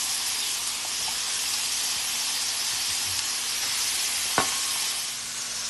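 Lamb for burgers sizzling in a hot cast iron skillet, a loud, steady, close hiss of frying that runs throughout, with one brief clink partway through.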